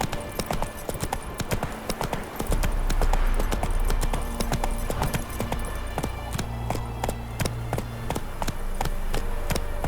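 Horse hooves galloping in The Witcher 3, a fast, loud, continuous clatter of clip-clops with a low rumbling undertone.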